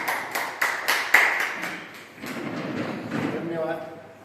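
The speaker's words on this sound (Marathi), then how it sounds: "टाळ्या वाजवून आपण स्वागत करूयात" Audience at a Marathi literary poetry gathering claps to welcome the chairman, a burst of sharp, close claps for about two seconds, then a softer, more diffuse rustle of applause and room noise.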